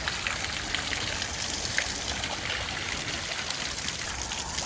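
Floodwater flowing through a flooded farm workshop, a steady broadband rush and trickle of water running continuously at moderate level, with no voices.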